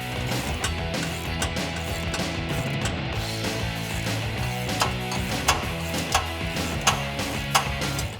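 A 19mm socket ratchet tightens bolts on a Rugged Ridge Spartan front bumper on a 2007-2018 Jeep Wrangler JK, giving rapid repeated clicking from the pawl in bursts, close and clear, with no talking.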